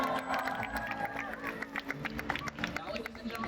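SeaWorld Orlando stadium audience cheering for the killer whale Trua at an orca show: a steady wash of crowd noise with claps and excited voices, moderately distant, with speech mixed in.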